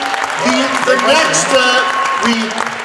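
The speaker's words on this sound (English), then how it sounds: "Give a round of applause." Steady clapping from a fan convention panel audience at FanX 2022 throughout, with voices talking over it.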